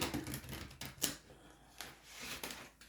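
Soft papery shuffling and light taps of tarot cards, a few quick riffles and slaps close by in a quiet room.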